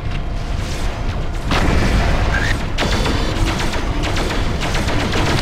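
Heavy explosions and gunfire from a MechWarrior 4: Mercenaries battle as a target mech blows up, with dense booming blasts and rattling weapon fire throughout, a big burst around the middle.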